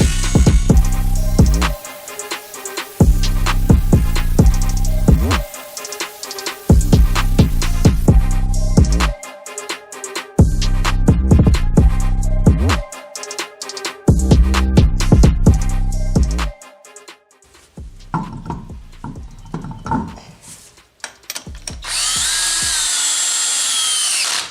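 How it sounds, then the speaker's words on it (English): A power-driven wire brush cleans a car's wheel hub before the wheels go back on, spinning up in loud, close bursts separated by short silences, then a longer, rougher grinding stretch near the end. "I'm going to clean them up just very lightly with this wire brush as well"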